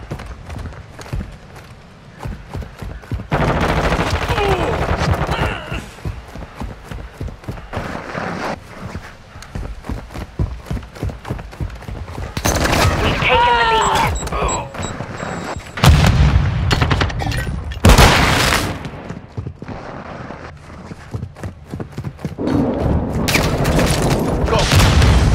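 Dense gunfire and heavy explosions in Call of Duty: Modern Warfare II, with rapid rattling bursts broken by loud booms, continuing almost without pause.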